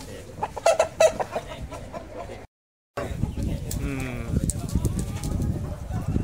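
Chickens at a beauty chicken contest in Thailand cluck and crow close by amid a lively crowd, with people talking throughout and a brief gap of silence midway.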